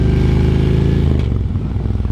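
A motorcycle revs hard close by with a loud, rough, pulsing engine note, then its sound drops and shifts as it pulls away and rides off.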